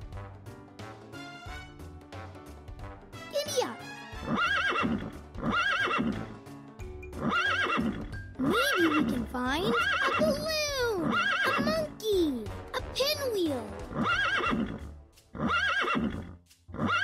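In a Daniel Tiger children's video game, a horse gives repeated loud whinnies and neighs with a steady clip-clop of hooves, layered over cheerful background music.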